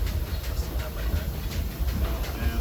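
The Disneyland Railroad train rolls along its rails, a steady rumbling ride with faint rhythmic clacks and a hissy, noisy wash heard from aboard.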